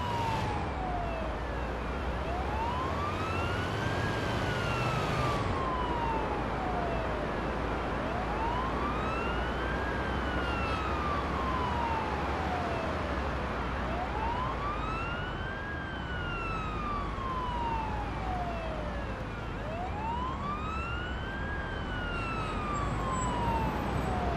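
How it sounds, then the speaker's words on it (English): A wailing ambulance siren in the video game Ambulance Life: A Paramedic Simulator rises and falls in slow, steady sweeps, loud and continuous over a rumbling engine drone. "Use the siren as needed."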